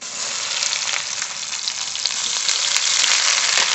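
Spice paste of ground mustard, poppy seed, cumin, dried and green chilli, ginger and garlic hits hot oil in a pan with lightly fried onion, giving a loud, steady, close-up sizzle that swells slightly toward the end, with no talking.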